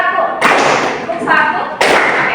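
A classroom of students claps together in unison, producing loud, sharp bursts of hand-clapping separated by short pauses, close by in a quiet room.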